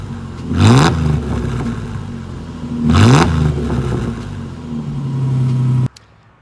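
A Ford Ranger pickup with a chopped muffler revs hard twice, each loud exhaust blast rising and falling, then a steadier rumble before cutting off abruptly; no talking.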